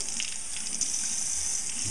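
Tap water runs steadily into a sink, a continuous close splashing hiss with no voices over it.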